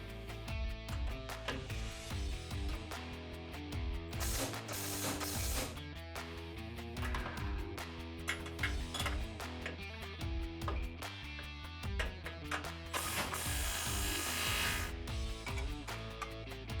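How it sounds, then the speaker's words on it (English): Ratchet wrench working the four suspension control arm bolts loose during a ReadyLift suspension lift kit install, with a steady run of rapid clicking strokes that keeps going close up throughout, with no talking. "We're going to start this process by loosening the 4 control arm bolts"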